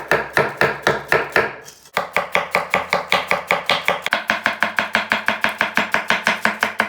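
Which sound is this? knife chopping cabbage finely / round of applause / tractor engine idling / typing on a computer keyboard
knife chopping cabbage finely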